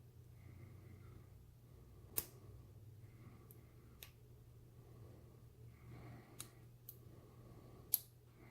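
Small metal pin clicks inside a vintage Illinois padlock being picked, a handful of sharp, faint, isolated ticks spread across a quiet background.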